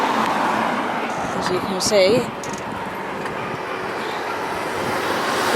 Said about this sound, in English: we got all the traffic coming past down the high street